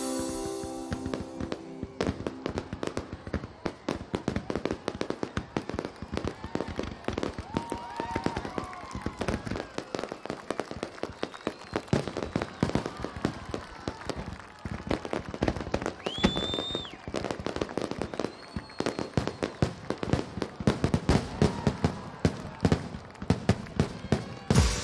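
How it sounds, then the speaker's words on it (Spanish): Fireworks display over Bangkok during the king's festival, a dense continuous barrage of crackling bursts and booming explosions with occasional whistling rockets, loud and sustained throughout. "encuentran su contrapunto en los fabulosos espectáculos de fuegos artificiales"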